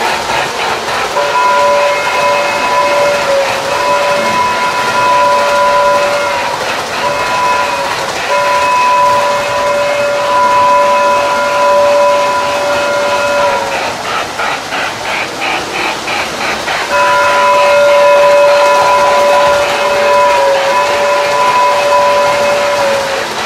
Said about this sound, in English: I'm going to sound the whistle and you can hear that.